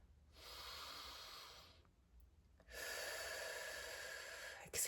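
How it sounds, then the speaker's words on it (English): Deep relaxation breathing: a long, airy inhale followed after a short pause by an even longer exhale, close and soft with no talk. "we're going to start off with 3 breaths, breathing in and exhaling longer than the breath in."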